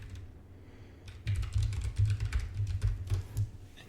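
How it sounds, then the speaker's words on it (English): Keys clatter on a computer keyboard as a password is typed, a quick run of close, crisp taps lasting a few seconds after a short quiet pause. "type a password"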